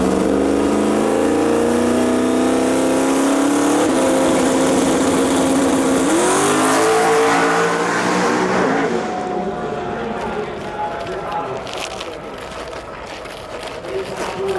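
An Edge Mustang drag race car pulls up to the starting line in the X275 class, its engine loud and close with rising revs that then fade away, while an announcer talks over it.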